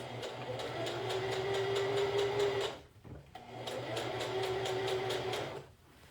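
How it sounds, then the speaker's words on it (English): A sewing machine slowly topstitches a facing on a garment, its motor humming under a regular ticking of the needle in two sustained runs separated by a short pause. "you can go really slow when you're top stitching, especially around a curve"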